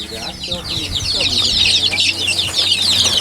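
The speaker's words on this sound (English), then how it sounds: "Hungry chickens. I don't know. They want to get out." Hungry chickens fill a chicken house with dense, continuous clucking, many birds calling over one another at close range with no pauses.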